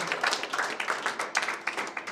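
Fairly faint applause from a small crowd at a talk event, a quick patter of many hands clapping without pause.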